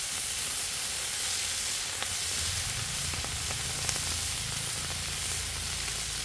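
Green beans sizzle in oil on a Blackstone griddle, a constant close hiss with faint scraping and ticks underneath, unbroken for the whole stretch and free of speech.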